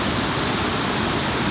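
Bog River Falls near Tupper Lake, New York, running high after a thunderstorm, a steady loud broadband roar of falling water, close and unbroken throughout.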